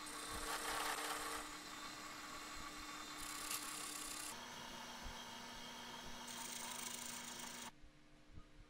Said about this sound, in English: Using the carbide detailer, I'll put some grooves in the handle.